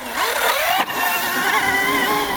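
A Sur-Ron Storm Bee electric motorcycle motor whines and rises in pitch as it accelerates, a steady high-pitched hum with a brief dip before continuing.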